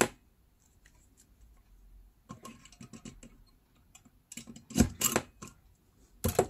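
Scissors snip through newspaper in a few short, crisp bursts, near and fairly loud, after quieter rustling and handling sounds.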